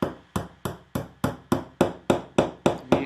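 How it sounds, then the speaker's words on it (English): Ten sharp, evenly spaced hammer strikes ring out as gimp pins are driven into a wooden frame's top bar with a small panel pin hammer, each hit close and loud with a brief decay. "I'm using a panel pin hammer."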